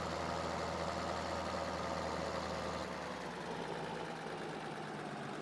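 A tractor engine idles in Farming Simulator 2013, a steady low mechanical drone that holds even throughout, with no voices.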